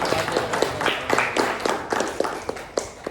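Scattered, uneven hand clapping from a class group at the close of a lesson, a steady run of sharp claps lasting about three seconds without talk.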